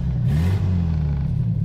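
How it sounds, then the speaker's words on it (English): A Soviet ZIM GAZ-12 car engine, started by push button and fitted with a torque converter, runs close by with a steady low rumble and a brief rise in revs early on. "The engine is started by pushing a button with your finger."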